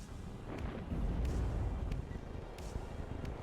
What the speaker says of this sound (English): HE bomber coming in here, dropping there. Lovely strike, lovely strike.